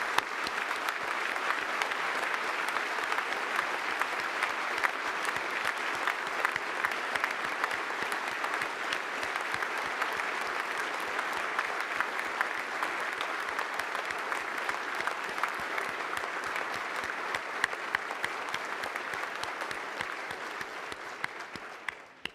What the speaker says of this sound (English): Everyone, please join me in applauding them and saluting them.